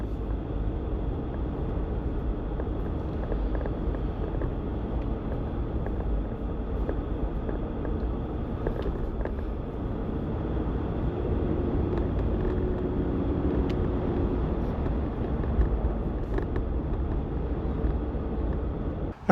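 Steady low road and engine rumble from inside a car driving along, fairly quiet and even throughout, with occasional faint knocks and clicks.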